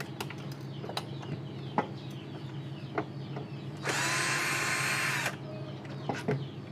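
A screwdriver backs screws out of a PS3 console: scattered small clicks and taps, with a whirring burst of about a second and a half midway, over a faint background.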